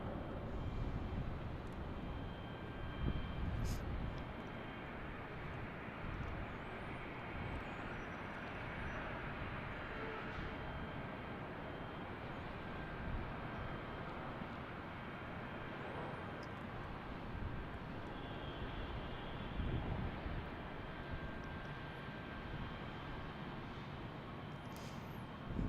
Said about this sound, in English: This A321 is really motoring down there.